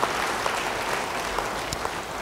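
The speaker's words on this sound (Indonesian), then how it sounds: "Yang mau beri tepuk tangan bagi dia" A church congregation claps during a sermon, steady dense applause throughout at close, even loudness.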